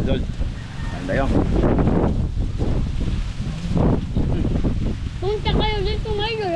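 Strong outdoor wind buffeting the microphone in a broad, uneven roar, with people talking over it and a bird-like whistling chirp near the end.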